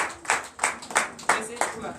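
Congregation at a Sunday worship service clapping in a steady rhythm, about five evenly spaced claps from several hands, with voices faintly underneath.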